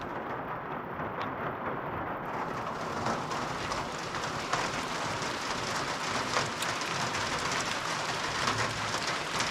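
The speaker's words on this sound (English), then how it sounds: "Rain is picking up just a little." Steady rain falls outside a cabin during solo camping, a dense continuous patter without a break and no voices.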